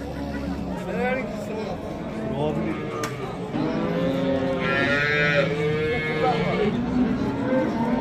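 Dairy cows low and moo in drawn-out calls at a busy livestock market in Bazar-Korgon, heard over steady crowd chatter and bargaining voices, with a couple of longer bellows standing out midway.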